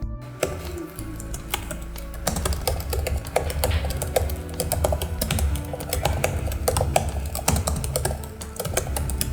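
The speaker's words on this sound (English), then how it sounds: "even the typing sounds, while quiet, are satisfying." Quiet, steady typing on the backlit keyboard of a Lenovo IdeaPad 5 14-inch laptop, a run of soft, close key clicks with no talking.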